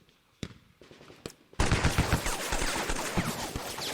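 Machine gun fire in a tactical war game: a few scattered single shots, then a loud, dense sustained burst of automatic gunfire that keeps rattling to the end.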